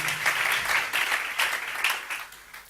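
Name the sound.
congregation applauding in church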